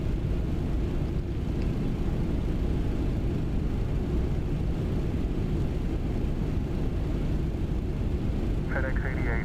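An MD-11 airliner climbs in Microsoft Flight Simulator with a steady, dense low rumble of engine and cabin noise throughout. A brief faint electronic tone sounds near the end.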